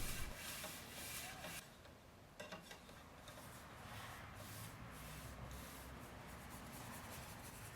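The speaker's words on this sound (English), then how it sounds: "Back to our old friends, the 220 grit sandpaper and Tackcloth to prep for the final polyurethane coat." 220 grit sandpaper rubbed across a wooden trophy case finish, prepping between polyurethane coats: a continuous close, hissing scrub with a brief pause and a few strokes that stand out.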